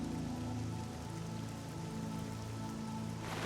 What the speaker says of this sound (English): Why is this shit always just so rainy lately here in Cyrodiil?